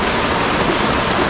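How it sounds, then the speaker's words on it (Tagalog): Heavy rain pours down in a dense, loud, unbroken hiss, close and steady for the whole short stretch. "lakas pa ng ulan mga kalibre oh. Lakas ng ulan."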